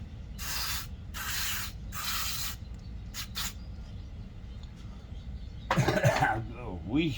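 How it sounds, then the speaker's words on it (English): Contact cleaner sprayed into the original electronics of an old Charvette guitar, three long hissing bursts and two quick short puffs, close up, then someone talks. "So let's go ahead and throw a little CNC in there. A little contact cleaner."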